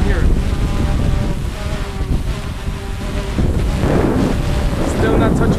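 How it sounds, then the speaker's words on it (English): Strong gusts of roughly 20 mph roar across the microphone while a GoPro Karma drone hovers in a high-wind flight, a steady, loud, broadband rush that swells near the end, with no clear speech. "And you see the wind? Well, you can't really see it, but you can hear"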